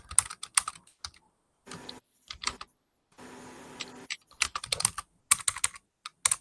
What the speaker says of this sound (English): let me just type this thing.